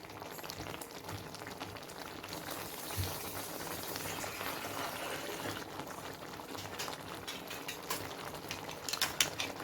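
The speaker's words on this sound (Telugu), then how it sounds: "రొయ్యలు ఉడకటానికి సరిపడినంత వాటర్ పోసుకొని బాగా ఒక 10 మినిట్స్ ఉడికించుకోవాలి" Prawn curry simmers at a steady boil after water is added, Guntur style, with a continuous bubbling hiss and occasional faint clinks of a utensil against the pot, close up with no talking.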